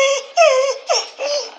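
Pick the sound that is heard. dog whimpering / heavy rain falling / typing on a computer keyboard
dog whimpering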